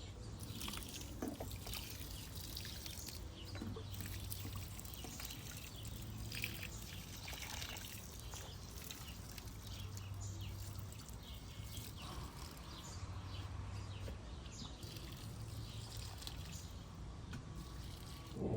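A watering can pours comfrey fertilizer solution over Great Northern bean plants outdoors, a soft continuous trickle and drip lasting many seconds, faint and steady with no talking.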